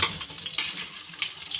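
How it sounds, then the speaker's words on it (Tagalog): Garlic sautéing in a hot wok: a steady, bright hiss and sizzle with small crackling bursts, continuous and fairly close, with no talking. "So, ayan guys, simulan na natin igisa tong bawang."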